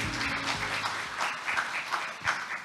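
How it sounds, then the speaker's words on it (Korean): A crowd applauds steadily at a government forum in Korea, a dense, continuous patter of many hands clapping at fairly close range with no talking over it. "다시 한번 큰 박수를 부탁드리겠습니다"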